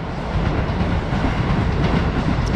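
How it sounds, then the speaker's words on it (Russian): A train rushes past a residential neighbourhood in Japan with a steady, loud rumble and rattling wheels, continuous throughout with no voices. "здесь проносятся поезда."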